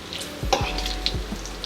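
Bacon sizzles in a hot pan with a steady crackling hiss, broken by a few low thumps and scrapes as the strips are flipped, close up and with no talking.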